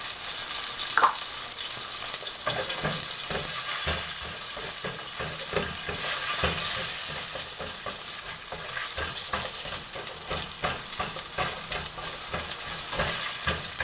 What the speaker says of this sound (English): and you saute the garlic a little bit